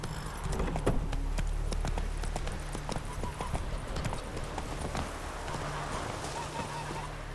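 A horse gallops in The Witcher 3. Rapid, steady hoofbeats run throughout over a constant low game ambience, with a faint whinny early on.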